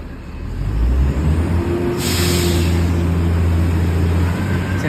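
A semi-trailer truck works through a sharp turn with a loud, steady low engine rumble. Partway through, a sharp burst of hissing air brake rises over it.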